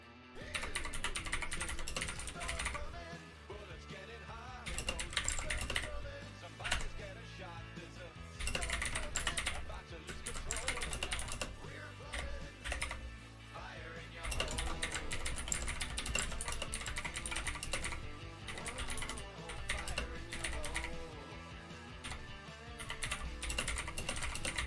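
Rapid, steady mouse clicks from a player in fast online bullet chess, running continuously under loud background music with no talking.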